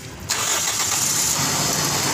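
A car engine cranks and catches after a compressor replacement, then settles into a steady, loud idle with a broad hum close by, no talking over it.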